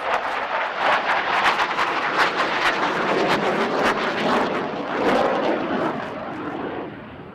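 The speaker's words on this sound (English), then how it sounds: "as you see the pilot coming in for the inverted flight maneuver" Aerobatic airplane performing inverted flight and rapid direction changes at the Aero India 2025 air show in Yelahanka, a loud, steady engine roar that swells and fades slightly as it passes, with no talk.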